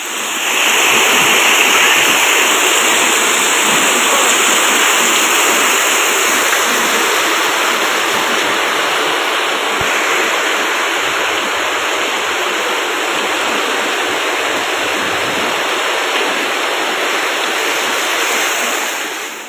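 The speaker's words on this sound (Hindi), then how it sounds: "जब भी बारिश होती है, इसी प्रकार पानी का बहाव रहता है" Rainwater rushes through low-lying town streets during a downpour in Nathdwara, a loud, continuous broadband roar of flowing water with no breaks, steady from start to finish.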